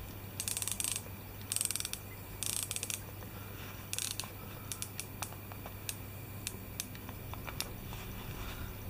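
The bezel of a Christopher Ward C60 Trident 38mm GMT watch being rotated, giving short quick bursts of crisp ratcheting clicks, then scattered single clicks, close up and otherwise quiet.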